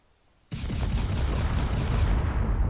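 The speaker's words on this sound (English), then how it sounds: "So let's first shoot with the Vulcan." A Vulcan gun on a spaceship in a video game opens fire abruptly, a loud rapid-fire burst of rattling shots that runs continuously for about two seconds.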